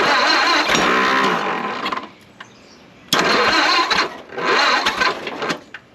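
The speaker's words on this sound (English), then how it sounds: "let's put some power to the coil, hit it, and see if it'll start running" An abandoned 1929 Doodlebug engine, sitting for years, cranks with the choke on and coughs in loud, rough bursts, broken by brief pauses between attempts.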